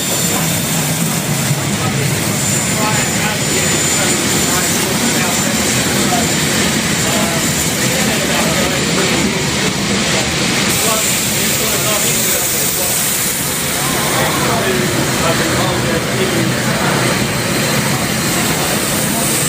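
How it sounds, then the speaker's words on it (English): A long train rolls into a station platform, with broadband rumble and rattle of passing cars holding steady and loud throughout, close to the listener and with no talk over it. "This is a really long train"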